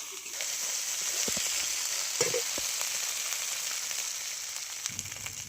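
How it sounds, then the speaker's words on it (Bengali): Spice paste with ginger frying in oil in a pan, a steady bright sizzle throughout with a few soft scraping stirs and a brief clink, no voices. "মশলাটাকে তেল ছাড়া পর্যন্ত আমি কষাবো"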